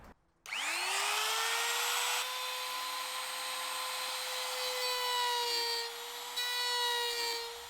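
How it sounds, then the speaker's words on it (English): A router cuts a recess in wood for a light switch on a handmade nightstand, with a loud, steady, high whine that starts abruptly and holds throughout, close up, with no talk. "the last time I'm going to have to use the router, and that is to route out a recess where I can put the switch in"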